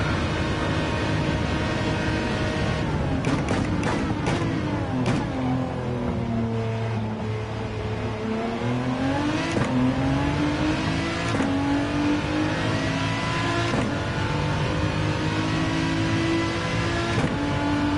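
Gr3 race cars running down the Monza straights in Gran Turismo 7, a loud continuous engine roar that climbs in pitch through the gears, broken by several quick shift clicks, with a second car droning nearby.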